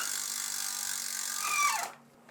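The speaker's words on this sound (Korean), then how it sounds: "라쳇 소리를 집 404랑 한번 비교를 해보겠습니다" Zipp 404 bicycle wheel hub ratchet freewheel spinning with a dense, steady buzzing click, close and fairly loud, then slowing and stopping near the end.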